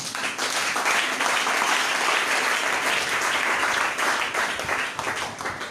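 A church congregation breaks into sustained applause at a French-language sermon, dense clapping from many hands that holds steady for several seconds before tapering slightly at the end.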